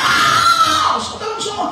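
Sustained anguished screaming from several voices at once, loud and continuous, with overlapping shrieks and wails shifting in pitch, meant as people crying out in hell.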